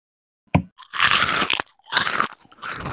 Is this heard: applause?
no